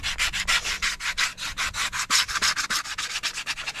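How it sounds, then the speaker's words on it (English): Coarse 60-grit sandpaper rubs back and forth on a wooden canoe paddle in quick, rhythmic, raspy strokes, close and alone, roughly a dozen passes in a few seconds. "as smooth as you can get something with 60 grit sandpaper"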